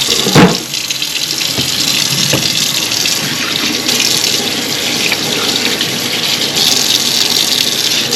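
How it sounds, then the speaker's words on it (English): Hot soapy water runs steadily from a tap for cleaning a fuel pump, a loud continuous gushing splash with a few brief clunks near the start. "I'm just going to use hot soapy water."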